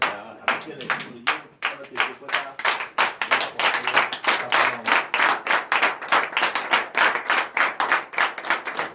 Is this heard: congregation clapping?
yes